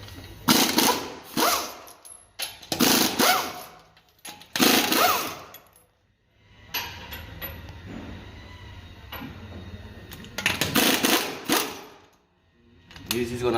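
A power tool, an impact-style wrench, removing car tires to reach the front brakes for a brake inspection, firing in several loud rattling bursts of about a second each with quiet gaps between them.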